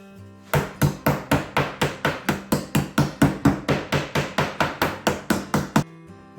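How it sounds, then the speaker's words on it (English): A meat hammer pounds a steak laid under cling film on a board, about twenty evenly spaced, loud, close thuds in a fast steady rhythm, then stopping. "I've put some cling film on the board and I've got a meat hammer here"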